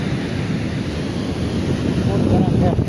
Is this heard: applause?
no